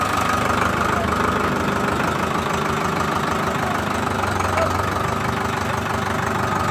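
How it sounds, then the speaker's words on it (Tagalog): A tractor carries riders toward a coconut harvest, its engine chugging in a steady loud drone close by, with faint voices underneath. "At sakay tayo ng tractor."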